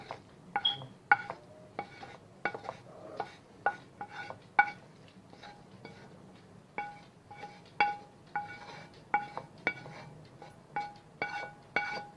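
An egg is beaten in a bowl with a utensil, giving a series of sharp, irregular clinks and taps that ring briefly against the bowl, fairly quiet and close with no talking.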